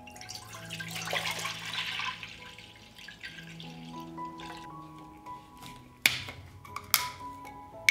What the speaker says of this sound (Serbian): Mleko sipam u jednu dublju šerpu.